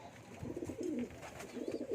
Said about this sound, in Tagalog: Pakikilala ko na sa inyo ang mga ibon 2024 ng NHPC